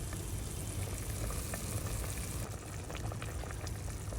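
Pork adobo with vegetables cooking in a pan, a dense continuous sizzle and bubbling simmer, steady and close throughout with no one speaking.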